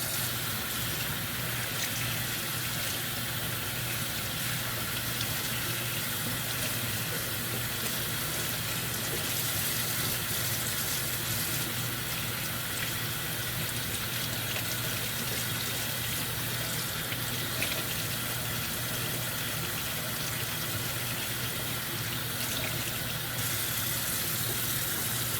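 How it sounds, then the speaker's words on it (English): Tap water running steadily while a bluegill is cleaned, a continuous broadband gush that stays even and fairly close throughout. "Now we're going to turn the water back on."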